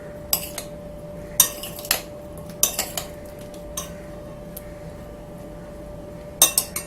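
A spoon stirs boiled chickpeas and potatoes with lemon juice in a bowl, giving scattered sharp clinks and scrapes against the dish, a few close knocks spread over several seconds with quiet gaps.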